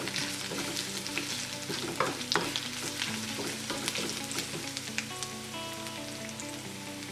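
Two or three dried red chillies fry in oil for a soya chunks dry roast masala with ginger and garlic, crackling and sizzling with scattered popping bursts and occasional stirring scrapes, moderately quiet and close, with no talk.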